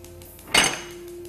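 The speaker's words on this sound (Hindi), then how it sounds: "फ्राइंग पैन रख के और इसको गर्म करते हैं" Metal frying pan set down on a stovetop and handled while heating for frying fish kofta, one sharp clattering clank followed by a brief ringing decay, close and isolated, with a steady low hum underneath.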